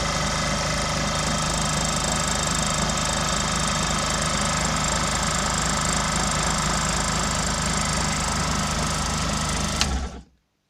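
A small electric motor runs steadily on a bench setup with armature feedback control, producing a continuous dense mechanical whir with rattling vibration that stops abruptly near the end.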